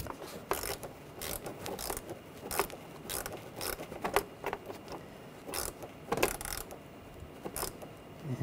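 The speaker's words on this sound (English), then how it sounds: "Tighten down the worm clamp." Ratcheting clicks in quick irregular bursts as a worm-drive hose clamp is tightened in a Ford Escape engine bay, close and fairly quiet, with short pauses between runs of turns.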